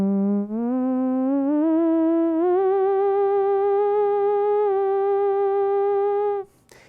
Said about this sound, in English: We can also add a vibrato to the sound like this.